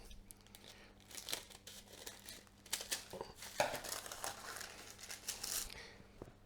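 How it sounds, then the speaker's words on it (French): Folded parchment paper being cut to fit a round cake tin: soft crinkling and crackling bursts with sharper snips, quiet and close, in uneven clusters over a few seconds. "on prend notre papier sulfu, on plie en deux, encore en deux, et on va le couper pour qu'il fasse la taille de notre cercle"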